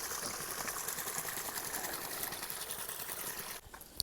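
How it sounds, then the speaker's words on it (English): A small waterfall pours over rocks with a constant close hiss and splash that drops off abruptly near the end. "Lovely little waterfall here."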